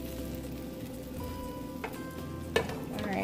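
French toast frying in butter in a pan, a continuous close sizzle with occasional soft clinks and a louder pop near the end, no talk.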